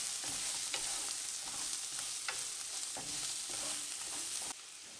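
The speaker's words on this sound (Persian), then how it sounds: "گوشت رو بهش اضافه کنید. با هم دیگه 2 تفت بدین." Meat frying in a pan with onion and turmeric for a stew, a steady close sizzle with rhythmic scraping strokes of stirring every second or so, fairly quiet with no voices.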